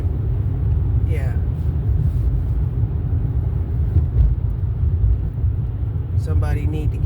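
A loud, old, rattling truck passing outdoors, its low engine rumble steady and dominant for several seconds, with a voice heard over it at times.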